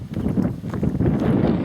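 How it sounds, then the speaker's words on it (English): Strong gusty wind buffeting an allotment garden plot in July, a steady low roar with rustling surges that rises and falls throughout, loud and close to the microphone. "It's very, very windy today"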